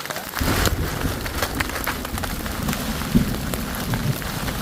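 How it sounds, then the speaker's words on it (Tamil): Steady rain falls during a mountain trek near Mukurthi Peak, a close, dense patter on surfaces with scattered louder drops, continuous through the clip. "நம்ம வந்த முதல் ட்ரெக்கிங்கே வந்து மழை வந்துருச்சு, நல்லா குளிருது"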